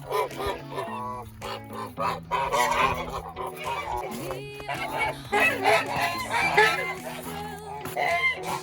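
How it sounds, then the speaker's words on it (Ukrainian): Loud, busy gobbling and honking from a crowd of domestic farm turkeys close by, calls overlapping continuously. "Ці індики, мабуть, самі спокійні, самі ручні птахи в нас у господарстві"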